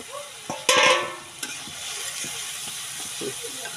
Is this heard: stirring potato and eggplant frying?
yes